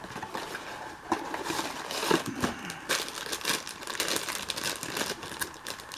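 Crinkly plastic of a Mystery Minis blind bag being torn open, with close crumpling and tearing bursts in irregular rustles over several seconds.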